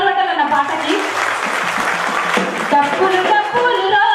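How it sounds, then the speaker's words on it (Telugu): An audience at a state-level gathering applauds a folk song, clapping mixed with loud, tonal singing or music and voices throughout, the applause partly buried beneath. "ఒకసారి మీరు అందరూ చప్పట్లు పెట్టాలన్న పాటకి."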